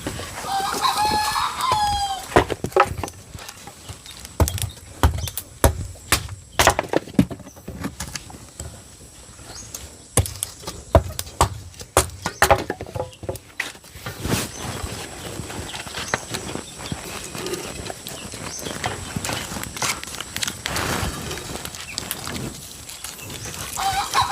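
Chickens cluck repeatedly and a rooster crows, mixed with irregular clopping knocks and scattered bursts of activity nearby.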